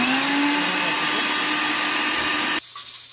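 A kitchen blender grinds homemade malt made from sprouted rice, whirring loudly and steadily for over two seconds before cutting off abruptly, leaving a faint low hum.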